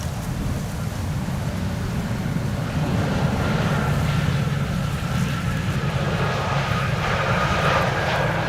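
Embraer E2 airliner arriving at Amsterdam Schiphol during a windy storm, a steady loud jet engine roar blended with gusting wind noise, continuous throughout with no talking.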